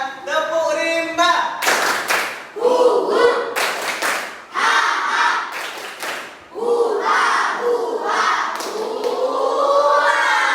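A classroom of children claps out the rhythmic tepuk rimba pattern, with bursts of group hand claps alternating with loud chanted voices, close and lively throughout.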